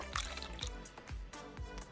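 Car fluids draining in Car Mechanic Simulator 2021, heard as soft liquid drips and squishy trickles that repeat in a steady rhythm, quiet and close, with no talking.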